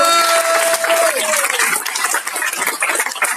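An audience applauds a former prize winner at a 2019 creators' challenge award ceremony, dense clapping that starts over a fading tonal sound and then continues on its own, fairly loud and steady.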